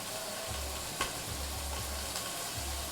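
Ingredients for Javanese sambal goreng, including onion, sliced red chilli and oyster sauce, sizzle steadily in a pan, a soft continuous frying hiss with a low rumble and brief clinks of stirring.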